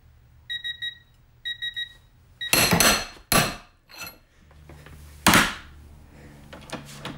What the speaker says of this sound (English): We're gonna go ahead and take the Capri Tools ratchet to failure.